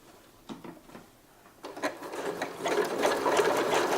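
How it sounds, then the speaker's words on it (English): A sewing machine stitches a zigzag seam on a scrunchie, starting with a few soft clunks and then building into a loud, steady close whir of the running needle. "you're gonna sew a zigzag one over that, so it's extra secure"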